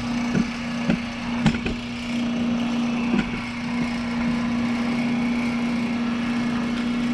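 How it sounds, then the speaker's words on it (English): An antique Chicago rivet brake machine from the 1900s setting rivets in a clutch lining, giving several sharp metallic strikes spaced irregularly over a steady motor hum, loud and close. "So now we'll move over here and set in these two rivets."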